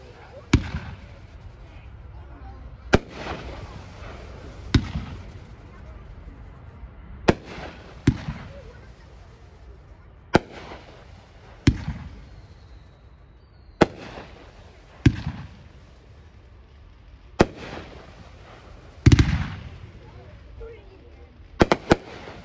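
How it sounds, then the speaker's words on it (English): Dominator Mammoth Strobe Red fireworks at an outdoor demo day: a dozen sharp, loud launch bangs spaced a second or two apart, each followed by fainter crackling strobe fizz. "Item number 18 from Dominator, Mammoth Strobe Red."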